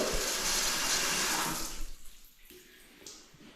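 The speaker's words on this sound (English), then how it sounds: "Watch the soapy water." Soapy water poured across laid floor tiles: a close, rushing splash of liquid that runs steadily, then tapers off into faint trickles and drips.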